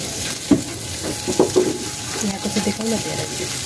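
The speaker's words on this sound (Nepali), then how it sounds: "मासु पोल्नलाई सुरु भयो है।" Meat sizzles steadily on a grill while a voice talks over it, with a few sharp clicks and scrapes.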